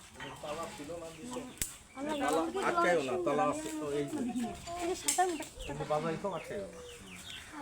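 Chickens cluck and call at a bird park in Batikamari, Muksudpur, mixed with a person talking over them throughout.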